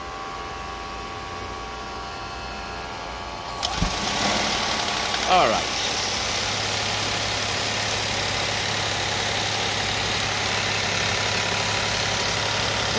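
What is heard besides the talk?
Toyota Aqua three-cylinder engine starting and idling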